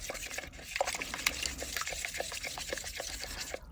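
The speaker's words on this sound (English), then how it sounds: "So I'm just going to get this nicely stirred in." Paint being stirred into a water and Magic Pour resin mixture, a soft, steady run of wet scraping and sloshing strokes, close up and continuous.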